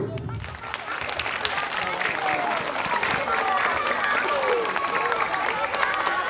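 Schoolchildren at an elementary school assembly break into sustained applause, a dense crowd of clapping building and holding steady, with a few voices and shouts mixed in.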